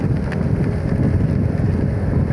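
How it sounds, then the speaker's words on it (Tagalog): Steady rain falls during an early-morning drive along EDSA, a continuous dense wash of rainfall heard close up and fairly loud, with no voices. "Medyo maulan pa rin pero at least kahit pa paano mahina-hina na."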